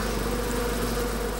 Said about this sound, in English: The bees swarm to the spot to attack the robber with their stings.